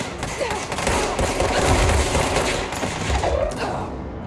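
Video game gunfire rattles in dense, continuous bursts like a fusillade, loud and close throughout, with thumping impacts mixed in.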